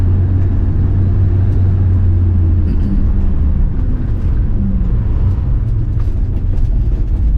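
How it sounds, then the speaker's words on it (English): A BMW 2002 Turbo drives down a hill on the road to Genting, its engine giving a steady, loud, low drone throughout with no talking. "this is David driving the car down the hill."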